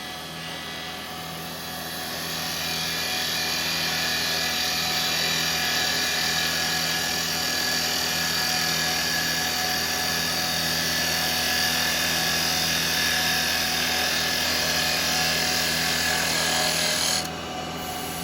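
A wood lathe spins steadily while a carbide cutter rides the bevel along the workpiece. A loud, continuous whirring drone swells after the first couple of seconds, holds evenly and then cuts off near the end.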